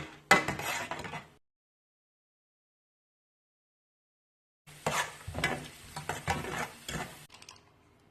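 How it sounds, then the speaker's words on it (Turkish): Pine nuts roast in hot oil with a crackling sizzle and scraping stirs, in two bursts separated by a few seconds of silence, close and fairly loud. "2 paket dolma fıstığını yağın içine alarak kavuralım."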